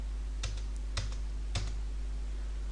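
Three separate keystrokes on a computer keyboard while entering data in accounting software, evenly spaced, soft and close, over a constant low hum.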